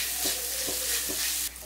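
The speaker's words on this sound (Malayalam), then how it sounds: "ഈ സവാളയിലേക്ക് ആവശ്യത്തിന് ഉപ്പിട്ട് കൊടുക്കാം ഇതൊന്ന് വഴറ്റിയെടുക്കാം" Onions sauté with salt in a hot pan for poori masala, a close steady sizzle with three soft stirring scrapes, no talking.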